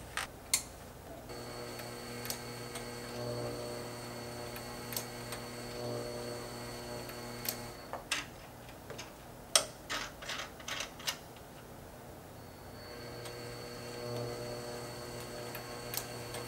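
A Sailrite WorkerB sewing machine with its motor package stitches through wallet-weight leather, giving a steady mechanical hum with rhythmic ticking and sharp clicks that cluster midway, heard alone without talk.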